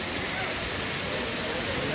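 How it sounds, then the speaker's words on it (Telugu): A waterfall along a mountain pilgrimage trail, a steady broadband rush of falling water, constant and fairly faint, with no clear voices. "సీ ద వాటర్ ఫాల్ ఎలా ఉంది, ఎంత బ్యూటిఫుల్గా ఉంది."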